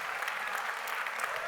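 An audience at a talk on medieval trends breaks into steady, dense applause, a brief burst of many hands clapping with no voices over it.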